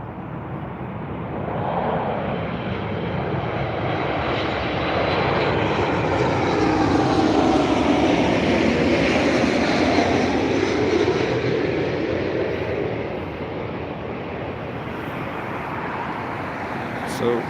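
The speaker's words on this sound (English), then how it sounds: "So that was the Max 8 from Glasgow." Boeing 737 MAX 8 airliner arriving from Glasgow passes at Dublin Airport, a loud broad jet roar that swells over several seconds and then fades slightly, steady and close.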